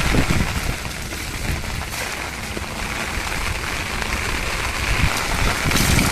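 Heavy rain pours steadily and densely, a loud continuous hiss of drops on surfaces with no letup, heard alone without any voices.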